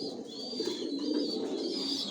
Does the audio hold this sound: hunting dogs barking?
no